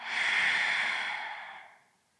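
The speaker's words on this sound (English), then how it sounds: "Exhale." One long, deep, airy exhale during a yoga breathing exercise, soft and close, swelling then tapering off into silence over about two seconds.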